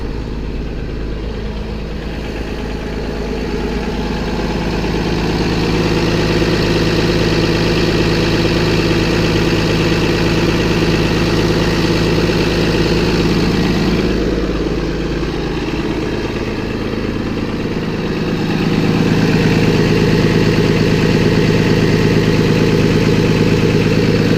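A Cummins 6.7L diesel in a 2015 Freightliner M2 106 truck runs steadily, a loud, close, droning idle that rises in pitch as it revs, dips briefly, then climbs again.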